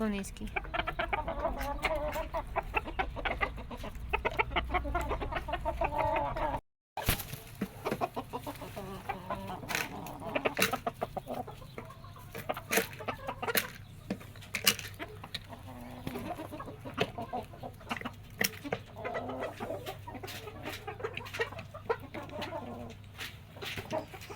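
Chinese silkie roosters clucking in a pen, a steady run of close, busy clucks and short calls from several birds with other fowl around, with a brief dropout partway through.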